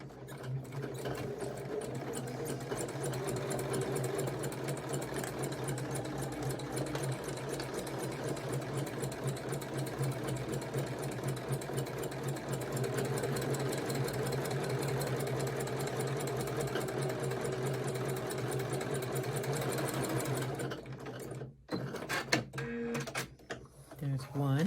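A sewing machine stitches a quilt block seam with a fast, steady mechanical whir and rapid clatter for about twenty seconds, then stops into a few scattered clicks and handling noises as the fabric is adjusted.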